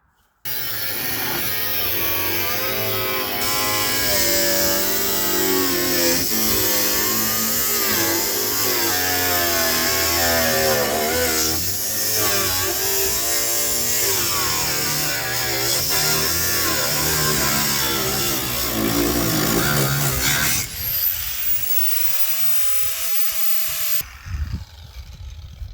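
A power saw cuts through a car's quarter panel that is packed with Bondo filler: a loud, steady, rasping whine that runs unbroken for about twenty seconds, then cuts off abruptly and leaves a quieter tail.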